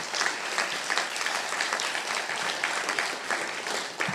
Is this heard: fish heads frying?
no